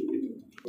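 A Bombay pigeon gives a soft, low coo up close, a brief murmuring call followed by a faint higher chirp and the start of another coo.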